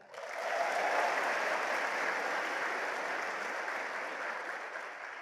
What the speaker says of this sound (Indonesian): Oleh karena itu Anda perlu memberikan satu aplaus pada diri Anda.